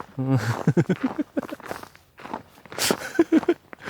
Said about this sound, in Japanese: 俺らの足音しか聞こえない。